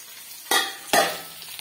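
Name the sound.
lifting lid off pot of cooking potato and eggplant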